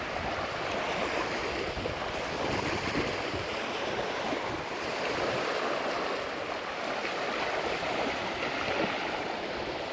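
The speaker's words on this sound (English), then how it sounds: "I can see the rain pelting down." Heavy rain pelts down as a storm rolls in outdoors, a dense, steady roaring hiss that holds at an even loudness for the whole stretch with no voices.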